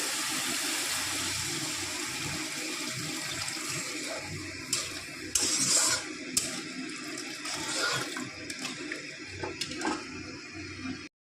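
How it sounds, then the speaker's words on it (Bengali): Hot water pours steadily into a pan of raw jackfruit kofta curry, a continuous close rushing splash lasting several seconds with a few brief knocks and clatters near the middle. "তো এখন আমি এখানে গরম জল দিয়ে দিব।"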